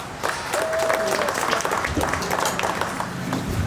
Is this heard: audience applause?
yes